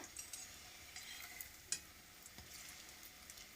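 Vegetables fry in a pan on a gas stove, giving a soft, steady sizzle with scattered sharp crackles and an occasional light scrape of stirring, heard quietly and alone.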